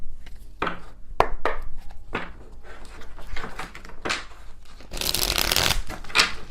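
A deck of tarot cards being shuffled by hand, with repeated riffles and soft slaps in irregular bursts, close and fairly quiet, ending in a louder flurry.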